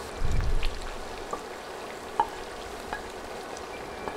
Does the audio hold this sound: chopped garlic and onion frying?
yes